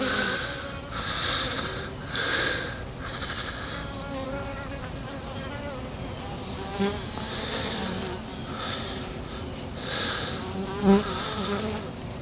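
Honey bees buzz steadily during a hive transfer, a dense continuous drone of many insects close by with a few louder individual passes, and no talk.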